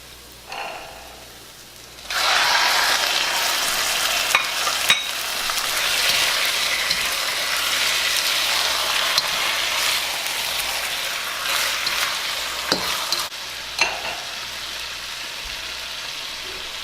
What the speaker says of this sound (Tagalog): Lutuin lang natin yung chicken guys hanggang sa mag-brown siya.